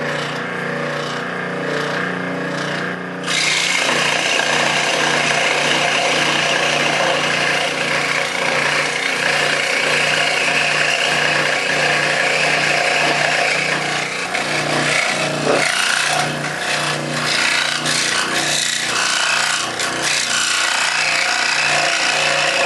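A scroll saw cuts through two wooden boards clamped together for a child's doll cradle, a steady, loud buzzing rasp of the blade running continuously after a brief quieter start, with no talking.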